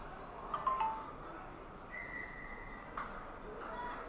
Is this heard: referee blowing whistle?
yes